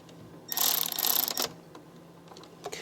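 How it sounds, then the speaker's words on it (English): A ratchet tightens a turbo inlet pipe fitting on a car: about a second of rapid, close metallic clicking, then quiet with a few faint ticks. "Now that I feel that it's going in, grab our ratchet here."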